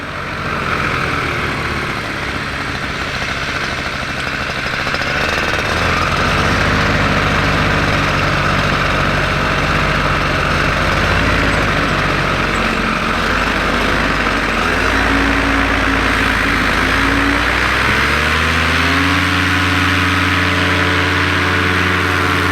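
A Polini Thor 303 paramotor engine with a 130 propeller runs loud and close in flight, holding a steady drone that shifts pitch as the throttle changes.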